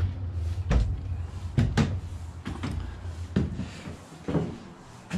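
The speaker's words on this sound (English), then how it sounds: "It's our Dutch door" A Dutch door near a boat's pilot house being opened and shut, giving several dull wooden knocks and thumps at irregular intervals over a steady background rumble, with no talk.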